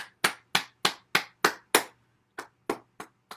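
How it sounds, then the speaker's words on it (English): Hands clapping during a Spring Forest Qigong bouncing practice: seven crisp, evenly spaced claps, a brief pause, then four more, close and loud in a quiet room. "Let's clap our hands"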